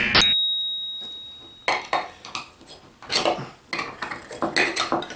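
A screwdriver pries the metal cap off a jar of Kauffman's pickled quail eggs that has a cap inside a cap. A sharp clink and ringing tone are followed by a pause, then repeated close scraping and clicking of metal on the lid.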